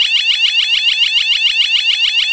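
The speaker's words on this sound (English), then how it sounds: "alarm is a piercing alarm sound which is actually 100 decibels loud." A wireless driveway motion sensor alarm gives a loud, piercing 100-decibel, rapidly warbling siren, its sweeps repeating in a fast steady pulse before cutting off abruptly.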